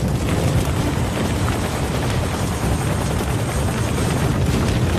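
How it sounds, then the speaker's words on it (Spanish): A Chinook helicopter makes a loud, steady, close rotor and engine roar that never changes over its whole length. "Un helicóptero Chinook se estrellaba"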